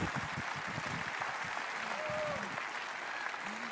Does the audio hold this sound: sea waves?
no